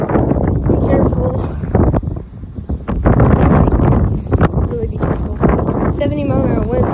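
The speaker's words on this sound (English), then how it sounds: "70 mile an hour wind. This is rotating so fast." Strong wind, said to reach 70 mph, roars and buffets the microphone during a tornado warning in Lubbock with a rotating funnel cloud nearby; loud and continuous, with a voice talking over it.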